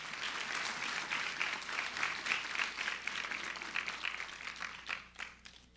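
A church congregation claps together in a sustained round of applause at a general meeting, dense and fairly loud, fading out near the end.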